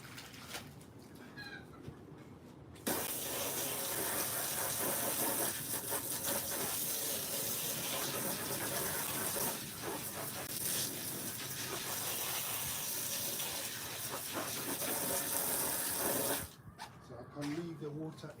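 Running water gushes loudly into a container being rinsed out for a rabbit, a steady broad hiss that starts abruptly and stops near the end, with quieter background sounds on either side.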